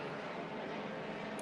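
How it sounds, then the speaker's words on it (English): A helicopter flies overhead near a small airport, heard as a loud, steady broadband engine and rotor roar that stays constant without talk. "That is the helicopter, so they must be coming from the hospital."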